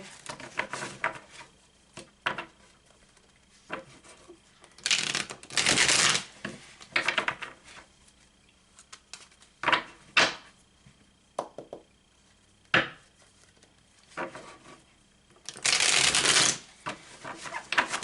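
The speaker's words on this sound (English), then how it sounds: "This is a good shuffle." Tarot cards riffle in repeated quick bursts, a crisp fluttering shuffle recurring several times with quiet pauses and small taps in between, close up.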